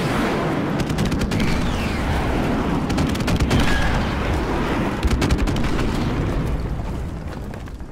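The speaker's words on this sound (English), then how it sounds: "M4 carbine." M4 carbine fire in Modern Warfare Remastered, a dense run of rapid gunshots and booming game effects that fills the whole stretch, loud and continuous with a burst-like texture over a rumbling background.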